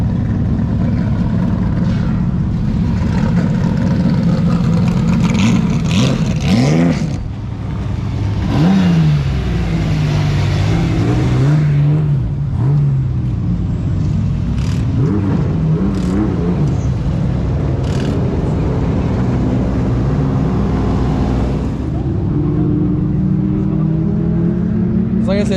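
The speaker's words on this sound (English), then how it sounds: "As you guys can see, the teams are coming down the pit road right now." Vintage modified race cars roll down pit road at Flamboro Speedway, engines droning and revving steadily throughout at close range, with voices talking over the engine noise.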